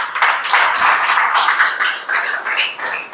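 A congregation claps hard for God at the close of a Spanish-language church service, producing a steady, loud wash of applause throughout.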